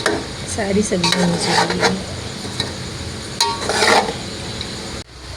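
Spaghetti and vegetables being gently stirred together in a pan, giving soft scraping and clinking of the utensil against the pan with a light sizzle under it. Brief talk overlaps the stirring.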